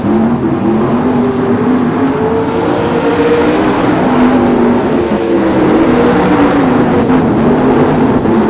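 Race cars circle a track in the final laps of a race, giving a loud, continuous engine roar that swells and dips in pitch as the cars pass.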